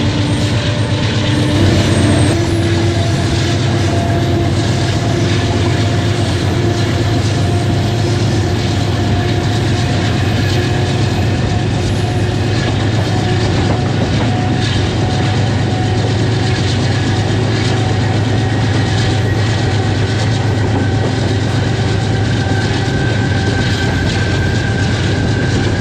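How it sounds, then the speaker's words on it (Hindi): Karachi Express pulled by an AGE30 Blue Tiger locomotive picks up speed after leaving Multan Cantt station, a loud, steady roar of heavy engine drone and rolling wheels with sustained tonal hum throughout. "मुल्तान कैंट रेलवे स्टेशन छोड़ चुकी है 15 अप कराची एक्सप्रेस, और अब आगे खानेवाल की जानिब अपने जो स्पीड है उसको बढ़ा रही है।"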